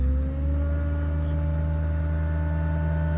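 A 2011 Ford F-550 truck engine idles steadily and close, a low droning hum with a faint higher whine as the PTO engages, continuous with no voices.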